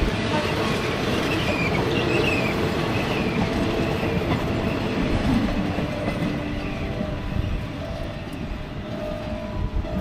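A train in Thailand rumbles steadily along the rails, a loud continuous roar with a rhythmic clatter underneath, heard from close by.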